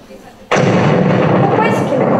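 A landmine detonates beneath the wind-blown Mine Kafon clearing device, heard as a sudden loud blast that opens into a sustained, rumbling roar filling the rest of the moment.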